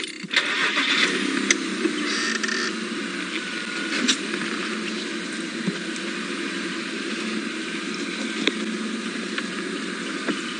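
A safari vehicle engine runs steadily at close range while driving, a continuous mid-pitched drone with occasional small knocks and clicks over it.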